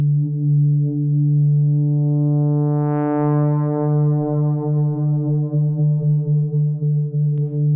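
A dry, reverb-free distorted cinematic undertone patch from the Zebra 2 synth: a steady, loud low drone with layered harmonics that brighten and rise midway, pulsing with a soft pumping movement throughout.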